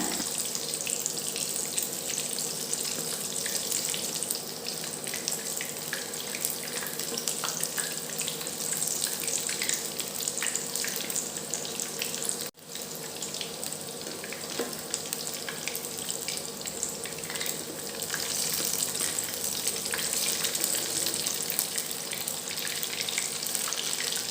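Veg chicken 65 deep-fries in hot oil, giving a steady, loud, dense sizzle that fills the whole stretch, with a brief dip midway and no talking.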